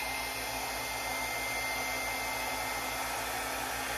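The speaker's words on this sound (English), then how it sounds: "And we're gonna blow this blob off." Steady, loud air blowing from a hair dryer pushing acrylic pour paint across a canvas, a continuous even whoosh lasting throughout with no talking.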